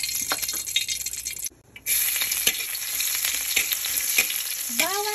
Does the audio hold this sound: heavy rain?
no